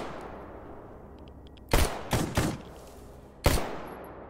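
Gunfire in the video game S.T.A.L.K.E.R. GAMMA: four sharp, loud shots ring out in a quick irregular cluster over a hissing ambient background, the last one after a short pause.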